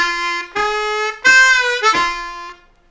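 A Bb harmonica plays a quick blues phrase of four bright, bending notes in rapid succession, close and loud, trailing off at the end.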